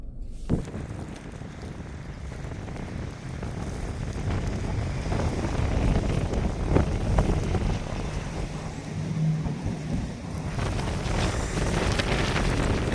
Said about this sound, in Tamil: இங்கே காற்று வந்து நல்ல பலமாக தான்